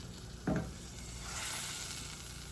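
Chicken frying in oil gives a steady, quiet sizzle, with one short stirring scrape near the start.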